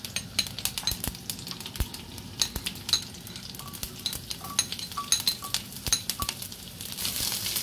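Three sliced garlic cloves frying in hot oil with mustard and nigella seeds for a Jaffna eggplant curry, a steady close sizzle broken by repeated scrapes and light clinks of a spoon stirring in the pan.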